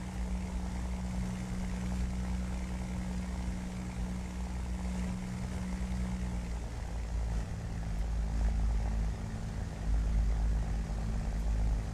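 A propeller-driven aircraft engine drones steadily in a flight video game, a continuous low hum and rumble with a tone that shifts partway through, alone with no talk.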